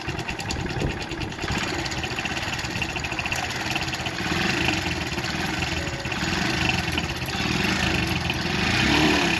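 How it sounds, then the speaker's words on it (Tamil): A vehicle engine modified to run on hydrogen brown gas (water-based fuel) keeps running steadily, a close, loud mid-pitched idle with a slight rise in revs toward the end, no voices. "இப்போ நான் திரும்ப வண்டியை வந்து ட்ரைவ் பண்ணி காமிக்கிறேன்."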